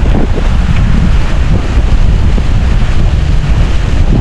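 Strong wind and surging floodwater waves on a swelling river during Super Typhoon Uwan, a dense, continuous roar of gusts buffeting the microphone with churning water underneath, no voices.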